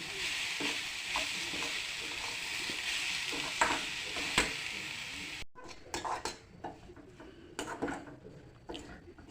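Grated coconut filling with sugar for gilas pitha fries and is stirred in a pan, giving a dense sizzle with rhythmic scraping strokes. It then drops to quieter clinks and scrapes of a spoon against metal.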